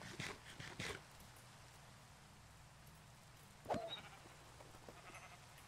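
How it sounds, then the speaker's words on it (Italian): A sheep in the Minecraft video game gives one short bleat partway through, preceded by soft clicking game noises over a faint background hiss. "La pecora non droppa niente."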